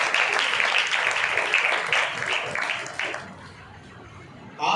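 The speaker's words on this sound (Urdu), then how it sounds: "چلیں اتنے پہ اکتفا کر کے تالی بجا دیتے ہیں۔" A church congregation at a Sunday service breaks into dense, bright clapping for roughly three seconds. The clapping then fades to quiet murmuring, and a brief louder burst comes at the end.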